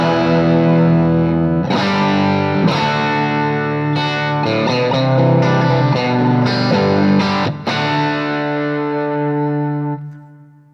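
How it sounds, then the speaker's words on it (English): Electric guitar played through an amp modeler set like a hot-driven tube amp at 10, sustained distorted chords and single notes ringing loud and continuous with chorus-like shimmer, then fading out at the end; no talk. "this sounds like a hot-driven tube amp at 10"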